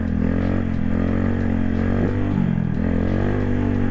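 Honda Grom motorcycle engine holding a steady, buzzing idle-to-midrange drone with clutch in and throttle held during a clutch-up wheelie, close and continuous, with a slight rev swell midway.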